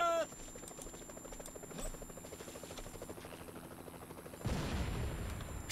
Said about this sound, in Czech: Ať ten vrtulník vypadne.